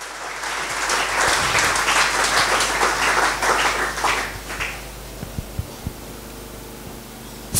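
A church congregation claps and cheers loudly for several seconds. The applause fades out halfway through, leaving a few scattered claps against low room hum.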